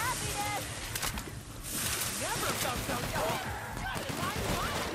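Gunfire in the video game The Outer Worlds, rapid bursts of shots and impacts over a continuous rumble, mixed with people talking and laughing.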